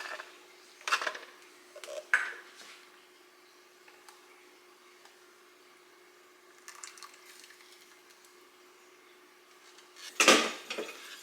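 A spoon stirs homemade tomato soup in a pot, giving a few sparse, quiet clinks and scrapes against the pot, with long near-silent gaps between strokes.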